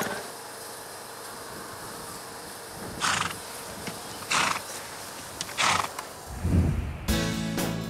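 Horse moving in a stable or yard, with several bursts of hoof clops and shuffling, then a loud close neigh near the end over a low background rumble.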